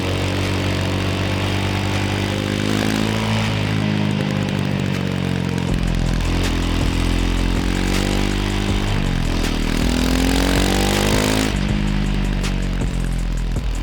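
A Kymco G7 scooter engine pulls hard along a mountain road, its whining drone climbing through steady rising pitch sweeps as the throttle is held open, loud and continuous with no voices.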